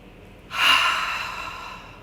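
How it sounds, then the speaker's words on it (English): A single deep exhale during a calming evening meditation, one soft, breathy rush of air that swells quickly and trails off slowly, close and alone. "Take a deep breath out"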